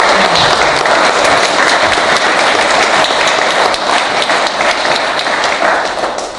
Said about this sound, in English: Let's give all of our winners a round of applause.